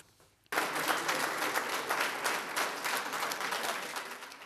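A crowd bursts into dense, sustained applause that starts suddenly after a brief quiet moment and stays loud throughout, greeting the mayor of Bordeaux on his final arrival amid a throng of press photographers and cameras.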